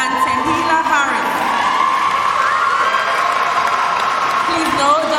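A graduation ceremony crowd cheers, whoops and shouts loudly and continuously, with some applause mixed in and voices audible throughout.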